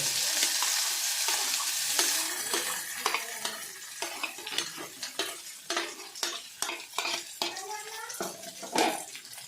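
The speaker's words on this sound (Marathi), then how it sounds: "लसूण आता भुनलेलं आहे आणि आता आपण उकळलेलं कणसाचे दाणे टाकून" Boiled corn kernels are stirred into roasted garlic in a hot pan, with a spoon scraping in repeated close clatters over a steady sizzle and fry.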